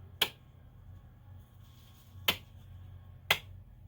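A drip irrigation controller's valve clicks open in a garden water system, three sharp, isolated clicks spaced about a second or two apart, quiet and close against a faint low hum, with no talking.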